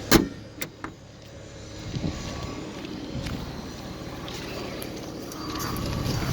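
Car power windows running down and then back up inside a parked car, a steady low electric motor whine lasting several seconds after a few faint clicks, close by with no talking.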